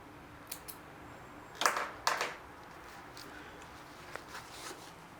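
Scissors snip thread on the back pocket of a pair of blue jeans after sewing: two crisp, close snips in quick succession, with a few faint clicks and handling sounds before and after.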